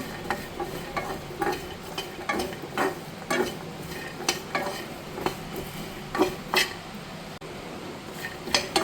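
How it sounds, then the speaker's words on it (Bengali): Nuts dry-roasting in a pan for a nut powder, stirred with a utensil that makes repeated scraping and clinking strokes at an uneven rhythm over a faint sizzle, close and moderately quiet. "তাই আগে বাদামগুলো একটুখানি রোস্ট করে নিচ্ছি।"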